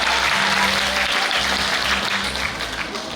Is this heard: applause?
yes